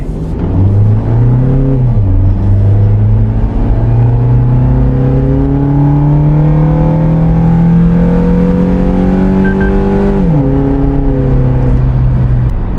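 A Suzuki Jimny engine with an ECU remap and BMC air intake revs loudly and steadily, its pitch climbing gradually, then dropping sharply near the end before settling at a higher idle drone, with no talking.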